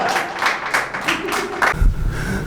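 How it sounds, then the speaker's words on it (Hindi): Audience applause welcoming poet Ashok Anjum at a poetry evening, a dense clapping wash at moderate volume that gives way to a low rumble near the end. "एक बार जोरदार तालियों से स्वागत करें अशोक"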